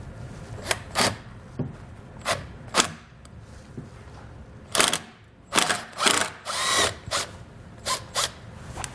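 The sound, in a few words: removing bolts with a 10mm socket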